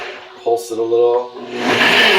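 A blender gives a short pulse on a vegan meal-replacement smoothie: a brief motor whine with steady tonal hum, followed by a louder, rushing whir of blending.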